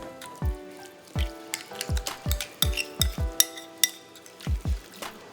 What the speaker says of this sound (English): And mix it up.